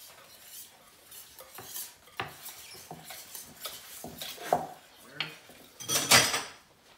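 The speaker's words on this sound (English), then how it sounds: "You want to give it a mix with your whisk, Bo." A whisk clatters against a bowl, mixing cumin and other spices, with scattered metallic clinks and scrapes at close range and a louder burst of rattling near the end.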